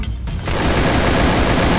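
Gunfire in the Free Fire video game: a dense, continuous burst of rapid shots that begins abruptly after a brief quieter moment and stays loud to the end, with no talk.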